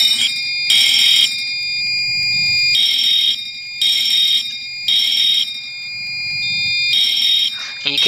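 A fire alarm in the Roblox video game sounds in repeated shrill electronic bursts, about six evenly spaced pulses separated by short gaps, loud and steady with a faint low murmur between them.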